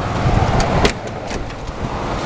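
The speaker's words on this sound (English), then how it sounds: "But this one still has the single exhaust pipe and it sounds very nice." A 1948 Ford Super Deluxe Coupe idles cold through its single exhaust pipe, a steady, quiet, even rumble close by with a few faint clicks on top.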